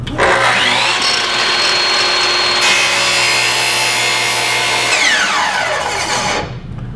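A compound sliding miter saw spins up and bites through wood with a loud, steady whine and rasp that lasts several seconds, then winds down as the blade slows.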